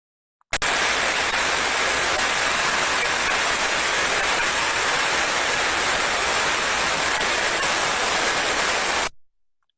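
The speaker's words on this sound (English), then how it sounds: "For good bearings, it sounds a very smooth noise, such as a waterfall noise." Ultrasound recording of a smooth, healthy bearing: a steady, even hiss like rushing water starts suddenly and holds for about nine seconds before cutting off, with no roughness or knocking.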